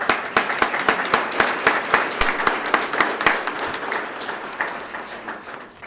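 Audience applause at a police swearing-in and promotional ceremony, a steady crowd clapping with sharp distinct claps, fairly loud at first then gradually thinning and fading toward the end.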